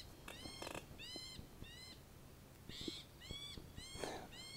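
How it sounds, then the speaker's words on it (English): Repeated high, sweeping bird calls chirp in quick bursts against a quiet outdoor background at Valley of Fires BLM Campground, New Mexico, with faint rustles and taps underneath. "Hear that bird?"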